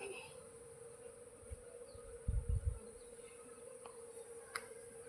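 A bee swarm hums as a faint, steady drone, with a few louder buzzing bursts from bees passing near in the middle.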